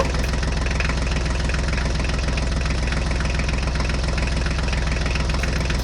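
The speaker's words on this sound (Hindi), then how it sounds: "तो हम भी हमारा मिनी ट्रैक्टर इसी रास्ते से लेके जाएंगे। चलो ट्रैक्टर गाड़ी, जल्दी चलो।" A mini tractor's engine runs steadily throughout, a loud, continuous low chugging idle with a rapid knocking pulse and no voices.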